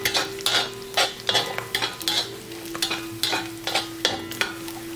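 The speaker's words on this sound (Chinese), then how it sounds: "炒这个牛肉末呢一定要慢慢的炒，直到把它炒得酥脆为止啊" Minced beef stir-fried slowly in a wok until crisp for mapo tofu, with a loud, rhythmic scrape of the spatula every half second over a continuous sizzle and a steady low hum beneath.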